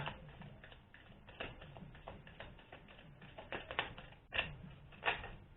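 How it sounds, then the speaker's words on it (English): Tarot cards are shuffled by hand at close range, a soft papery riffling and tapping with a few sharper snaps, quiet and steady with no talk. "these cards are a nightmare to shuffle"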